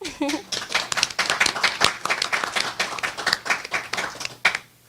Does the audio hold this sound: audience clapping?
yes